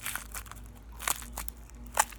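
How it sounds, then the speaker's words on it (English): Crisp crackling bursts as crunchy slime is squeezed, with a few sharper crunches standing out from quieter crinkles, close and without speech. "this slime is really crunchy also."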